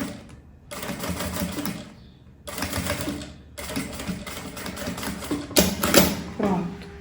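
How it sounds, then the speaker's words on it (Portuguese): Sewing machine fitted with a teflon presser foot stitching a bag, loud, close bursts of rapid mechanical whirring in three runs separated by short pauses, the last run ending in a few quicker bursts. "Aí, eu faço o retrocesso e vou costurar aqui, ó."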